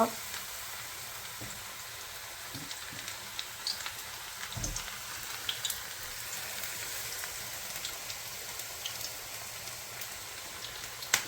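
Onion vada frying in hot oil, a steady bubbling crackle that runs quietly and evenly throughout, with a few soft clinks and bumps scattered over it.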